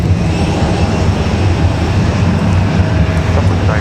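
Delta airliner departing Raleigh Durham International Airport on a windy day, a loud, steady broadband jet roar with heavy low rumble sustained throughout, no talking audible.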